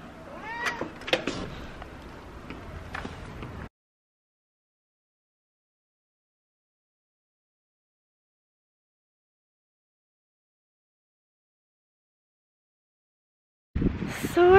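A cat meows several times up close over the first few seconds, then everything goes silent until a brief burst of sound right at the end.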